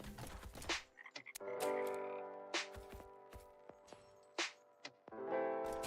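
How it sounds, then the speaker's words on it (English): Frogs croaking in a Godot-built video game, a series of short croaks and chirps in irregular bursts alongside sustained tonal game sounds, close and fairly loud, with no talking. "now the frogs are seeking the skeleton"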